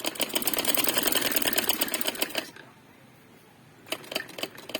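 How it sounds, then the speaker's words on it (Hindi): A sewing machine stitches the neckline of a kameez with a fast, steady mechanical whir of rapid needle strokes. It pauses briefly to a quiet hum, then resumes stitching up close with no talking. "अब एक पहिए का फासला पे ऊपर हमने आगे सिलाई लगानी है"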